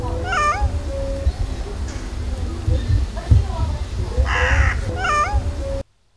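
A cat stranded five days up a 10-metre pine tree in a country garden community meows plaintively in repeated wavering cries, while a crow caws loudly in between.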